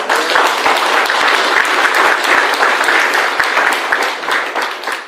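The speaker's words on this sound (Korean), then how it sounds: "이 박수는 그렇게 하겠다라는 박수지?" An audience at a public meeting on police and resident complaints breaks into loud, sustained applause, with many hands clapping in an even, continuous burst lasting about five seconds.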